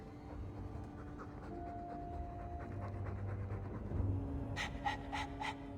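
Quick, breathy dog panting in the video game Dragon Age II continues with a few gasping breaths, ending in a burst of louder, sharper pants.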